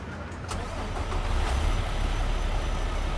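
A Peterbilt 352 cabover truck engine in American Truck Simulator cranking and catching, then settling into a low, steady rumbling idle, close and moderately loud.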